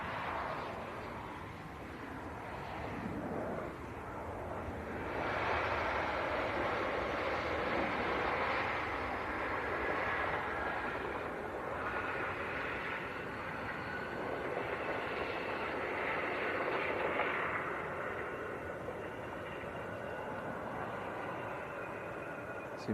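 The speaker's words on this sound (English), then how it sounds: "Here comes KLM from Amsterdam and Embraer 190" A KLM Embraer 190 airliner arriving from Amsterdam at Leeds Bradford Airport, a broad steady jet roar that swells and holds at mid distance, rising and easing gently without a break.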